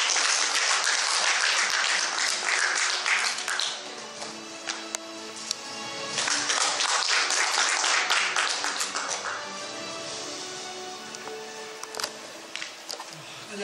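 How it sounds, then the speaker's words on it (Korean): A convention hall audience at a founding general assembly in Seoul gives loud, dense applause that swells and holds for several seconds, then thins toward the end, with camera shutter clicks scattered through it. "큰 박수로 맞이해 주시기 바랍니다."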